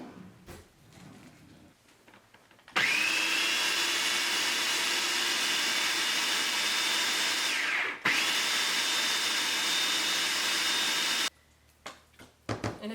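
Food processor pureeing scooped-out homegrown pumpkin insides, a loud steady motor whir running for about eight seconds, briefly dipping once, then cutting off with a few clunks afterward.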